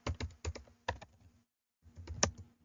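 An answer being typed on a computer keyboard, heard as a few quiet, close key clacks in two short bursts separated by a brief silence.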